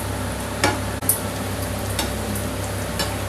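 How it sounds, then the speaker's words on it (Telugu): Alasanda vada (black-eyed pea fritters) frying in hot oil, a steady sizzle with a few brief clicks and clatters from turning them, no talking. "ఇలా 2 సైడ్స్ ఆయిల్లో ఫ్రై చేసిన తర్వాత పక్కకు తీసి పెట్టుకోవాలి"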